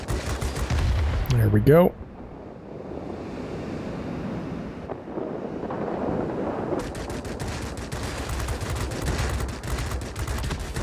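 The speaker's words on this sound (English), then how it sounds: "Whoa, we just took a big hit of flak there" Rattling flak bursts and gunfire hit a Yak-30 jet fighter in the World of Warplanes game, heavy close crackle under wind-like engine rush, with a brief spoken remark early on and rapid firing ticks returning near the end.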